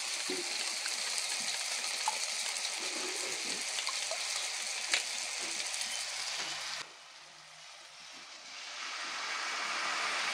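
Curd and spices sautéing in oil in a home kitchen, a continuous sizzle with scraping stirs that suddenly drops quieter near the end before slowly swelling again; no voices.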